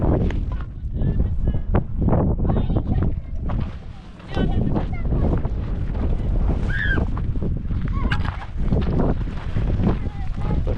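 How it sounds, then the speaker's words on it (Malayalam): Strong wind at a coastal viewpoint at Bandar Al Khiran in Oman buffets the microphone in a constant loud roar, with gusts rising and falling while people talk over it. "ടെൻ്റ് പറന്നു പോകുന്നു കേട്ടോ കാറ്റടിച്ചിട്ട്"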